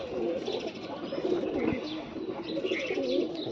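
A Pakistani pigeon coos softly and repeatedly at close range, the low burbling calls rising and falling against quiet background noise.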